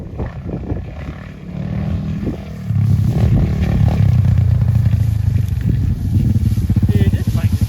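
A Kayo K2 230 dirt bike engine revs and roars close by as it is ridden, the throttle rising and holding loud, with brief voices early on.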